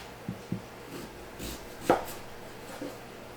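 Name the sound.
knife cubing sweet potatoes on a cutting board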